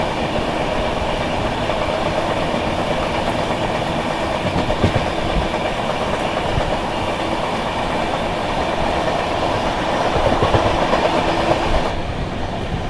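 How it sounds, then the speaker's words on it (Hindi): The Rewa Express, running between Anand Vihar and Rewa, rolls past with a steady loud rumble and clickety-clack of coaches on the rails, continuous and close, with no voices. "रीवा आनंद विहार रीवा एक्सप्रेस।"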